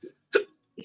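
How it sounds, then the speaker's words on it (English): A person hiccups once, a short sharp voiced gulp, bracketed by soft breathy vocal noises just before and after, close to the microphone. "Yeah, I got the hiccups."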